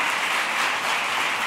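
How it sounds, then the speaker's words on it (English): Audience applause from a crowd at a women's history gathering, a dense steady wash of many hands clapping that fills the whole moment without letup. "Give yourselves a round of applause."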